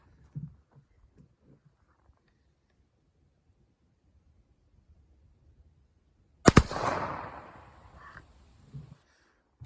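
A single sharp .45 caliber black powder shot fired with a paper cartridge cracks out after near silence, followed by a brief rumbling tail and faint outdoor noise.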